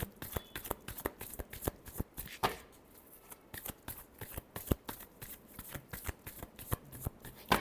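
Tarot cards are shuffled by hand in quick, crisp riffles and soft slaps, close and quiet, in an irregular rhythm of short bursts with brief pauses.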